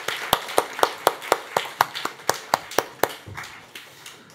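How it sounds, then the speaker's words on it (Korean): Church congregation applauding at an eleventh-anniversary Sunday service, a sparse run of about fifteen sharp, evenly spaced claps, close and fairly loud, alone without voices. "우리 힘찬 박수로 격려하고 들어가도록 하겠습니다"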